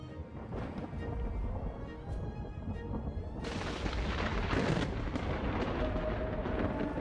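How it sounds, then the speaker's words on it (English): Deep rolling thunder in the survival game Vintage Story, a steady low rumble building and swelling midway before lingering at a constant, heavy level, with no talking. "Oh, I thought that I was hearing thunder."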